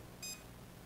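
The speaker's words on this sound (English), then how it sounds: "it lights up right here and it beeps" A dog training collar gives a short, clear electronic beep of about a tenth of a second, fairly loud and close against a quiet background, with no one talking.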